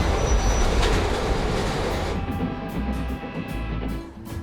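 A 1930s Pullman sleeper passenger train rumbles along the rails, loud and close, with heavy rolling noise that settles into rhythmic wheel clatter and faint metallic squeals.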